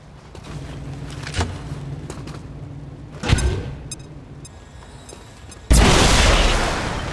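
Grenade blast in XCOM 2, a sharp loud boom hitting near the end after scattered smaller pops, creaks and thuds, with a decaying rumble trailing off.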